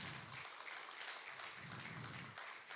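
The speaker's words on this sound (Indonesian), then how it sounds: "Berikan tepukan untuk Tuhan kita." Congregation applauding during a Sunday church service, continuous faint clapping from a crowd heard at a distance over low room rumble.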